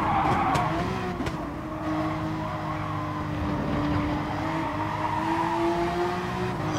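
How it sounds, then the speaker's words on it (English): A race car in GT Sport runs hard through a corner and out of it, its engine screaming up to the rev limiter in steady sustained tones while tires squeal and skid, loud and close throughout. "he's not saving fuel, he's revving the limiter up to the end"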